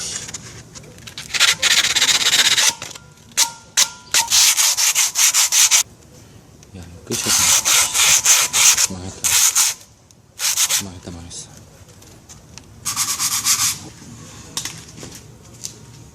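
Bursts of rough, scratchy 220-grit sandpaper rubbing against a metal muffler guard on a Suzuki Address 125 scooter, repeated in strokes with short pauses, close and fairly loud, with faint voices in the background.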